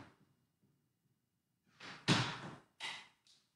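A studio door is handled as it opens to let a dog out: a rustling scrape followed by a loud clunk and a couple of softer knocks, close by in a quiet room.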